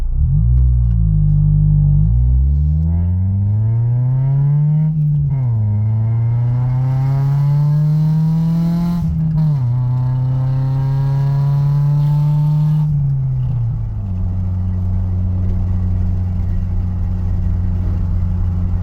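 A car's engine pulls hard and climbs in pitch, drops as a gear changes, then climbs again. The shifts jump from a lower gear up to fifth, and the engine settles into a steady drone at the end.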